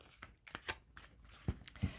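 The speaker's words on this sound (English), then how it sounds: "I'm shuffling the cards for you." Tarot cards being shuffled in quick papery riffles and taps, with a couple of louder soft thumps near the end, close and fairly quiet.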